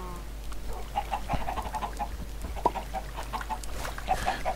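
Chickens clucking in a coop in the block-building game Minecraft, a scattering of short, mid-pitched bird calls repeating through the stretch over a low steady hum, fairly faint and with nobody speaking.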